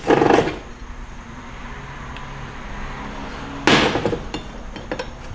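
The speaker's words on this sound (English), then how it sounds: "Now we'll get the front bushing put in." Hammering the front bushing into a 4L60 transmission on a workbench: two sharp, loud metallic strikes a few seconds apart, followed by a few lighter taps over a quiet shop background.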